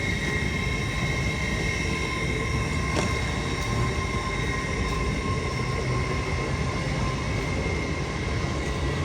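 Train rolling through York station on the East Coast Main Line, a steady loud rumble with tonal hum and faint squeal, continuous and close throughout.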